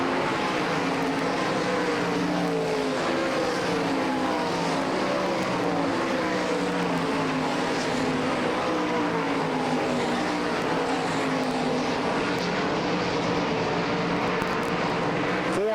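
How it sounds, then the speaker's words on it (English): Sprint race cars racing at the All Star Circuit of Champions Sharon Nationals in Hartford, Ohio, a continuous loud roar of several engines on the track, steady and dense throughout with no talk. "Bunnell is your bubble car. Starting to close in on Byron Reed."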